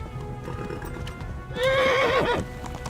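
Horse hooves clip-clop steadily in the video game Kingdom Come, then a loud, close neigh rises and wavers for about a second before the trotting continues.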